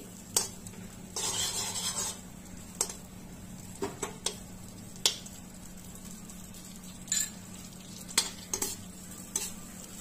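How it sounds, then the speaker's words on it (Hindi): Butter melting in a pan while a spoon stirs it, a soft steady sizzle under repeated sharp scrapes and clinks of utensil against metal, close and at irregular intervals. "हल्का सा इसको मेल्ट करेंगे थोड़ा सा चलाते हुए ताकि ये जले ना बटर बिल्कुल भी"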